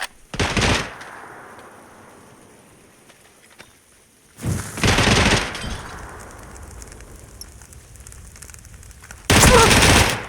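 Gunfire in PUBG in three loud bursts, separated by quieter stretches, each a sharp broadband crack with a trailing echo.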